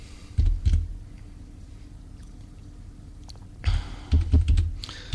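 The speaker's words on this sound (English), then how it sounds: "I'm typing away like a fiend here." Computer keyboard typing in short bursts, a couple of quick clusters early, then a denser flurry of keystrokes toward the end, close and fairly clear with no talking.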